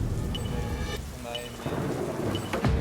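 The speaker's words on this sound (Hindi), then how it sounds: "ये बारिश इसे बहुत ड्रामेटिक बना रही है।" Steady heavy rain pours throughout with deep rolling thunder rumbling underneath, swelling louder near the end, during a staged deadly obstacle course challenge outdoors.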